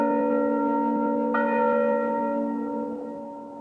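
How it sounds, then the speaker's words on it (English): A single church bell tolls, one clear ringing strike with a long, rich humming decay that slowly fades, and no voices. "The church bell would be tolling from morning to evening because of so many deaths."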